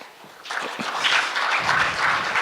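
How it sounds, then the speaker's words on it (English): Keynote audience applauding a presenter on stage, a broad wash of many hands clapping that swells after the first half second and holds steady, dense and fairly loud throughout. "And you are all allowed to clap,"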